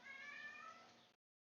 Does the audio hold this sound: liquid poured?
no